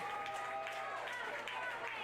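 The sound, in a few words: applause from the home crowd at a women's soccer match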